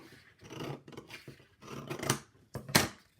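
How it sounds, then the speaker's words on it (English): Scissors snip through paper for a collage strip, a series of crisp rasping cuts in uneven bursts, closest and loudest near the end, with no voices. "And then I'm going to cut a vertical line up"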